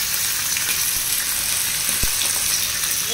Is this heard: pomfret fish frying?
yes